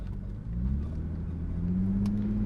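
Audi B5 S4 fitted with an SSAC twin exhaust, engine rumbling near the 2,000 to 3,000 RPM range where it pops: a close, low idle-to-rev drone rising slightly in pitch toward the end, with no clear pops.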